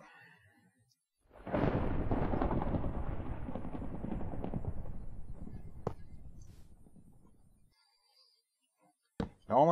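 Thunderstorm in the Minecraft video game out in a desert: a sudden loud rumbling thunder roll that swells and slowly fades over several seconds, followed by a short sharp crack near the end.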